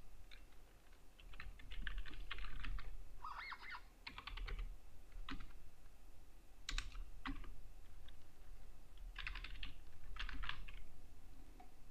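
Bursts of keyboard typing clack at a computer while filling in a PDF form in Nitro Pro, in irregular clusters of quick keystrokes with short pauses, fairly close and clear over a quiet background hum.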